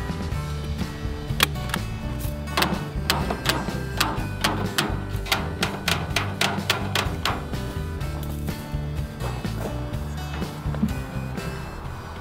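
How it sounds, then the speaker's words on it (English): A staple gun tacks No. 4 hardware cloth to the bottom of a wooden planter box, firing a long series of sharp snapping impacts at an uneven rhythm, close and fairly loud over a steady background hum, with only a brief spoken phrase. "tack it in place with a staple gun"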